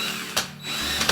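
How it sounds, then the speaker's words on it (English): Big power drill driving screws into pre-drilled pilot holes during a loft ladder installation, a close, loud whirring motor with a brief surge partway through and another near the end. "so now I'm going to screw those in with the big drill."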